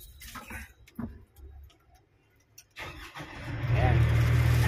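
Weichai 215E hydraulic excavator engine cranking and catching, rising into a loud, steady low rumble in the last second and a half, after scattered clicks and talk earlier.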